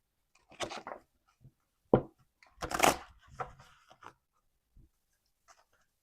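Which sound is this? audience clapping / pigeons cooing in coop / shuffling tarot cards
shuffling tarot cards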